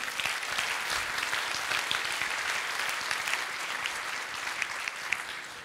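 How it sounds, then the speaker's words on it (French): Audience at a master's marketing graduation ceremony claps in a continuous, even wash of applause, moderately distant and fairly soft, with no talking over it. "On peut l'applaudir, s'il vous plaît."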